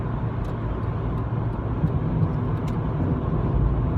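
A car cruises along a dual carriageway at around 68 mph while overtaking an HGV doing 60. A steady, close road and engine rumble with tyre noise runs throughout, and no one speaks.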